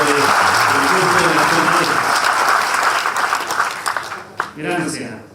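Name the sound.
audience applause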